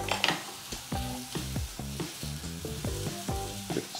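A steak, seasoned with pepper, sizzles in a pan after being flipped. The frying is moderate and close, and irregular bursts of crackle and spatter repeat throughout with no voices.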